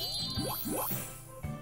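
A bell in the video game HuniePop gives a few quick rising chimes, bright tinkling tones close together over a steady background game tone.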